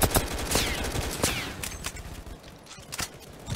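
Rapid bursts of gunfire from a gun in the video game Aimblox, loud and close, with sharp repeated shots in quick clusters that thin out toward the end.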